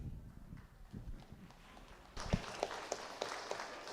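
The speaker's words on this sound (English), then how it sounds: "Give them a round of applause if you would." Faint, distant audience applause at the 2023 junior beef cattle show, rising halfway through as scattered claps in a large arena, after a quiet stretch of low background noise.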